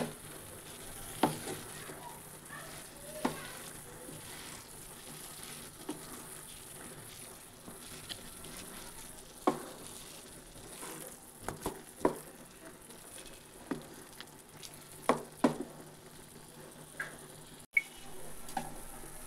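Chicken pieces sizzling in a pan while being stirred, a low steady frying hiss with scattered sharp clicks and scrapes of the spoon, fairly quiet and without talk.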